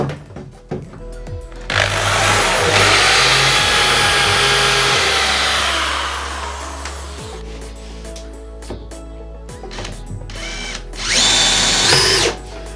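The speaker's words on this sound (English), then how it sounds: "So I'm just going to drill this, screw this bit in, and you'll see how it goes." A cordless power drill drives a screw into a wooden stud in a van conversion, its motor whining steadily for several seconds, slowing as the screw seats, then a short second burst.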